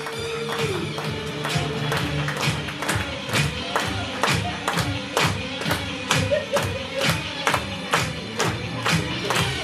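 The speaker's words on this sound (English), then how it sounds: "Give them a massive round of applause, ladies and gentlemen." A live audience at a stage hypnosis show claps in rhythmic unison, sharp regular beats repeating steadily for nearly ten seconds with crowd noise underneath, loud and close.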